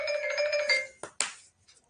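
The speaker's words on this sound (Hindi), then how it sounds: "भाई सब कौन फोन कर रहा है?" A phone ringtone plays a steady electronic tone for under a second, then breaks off into a couple of short, sharp bursts of noise before near silence.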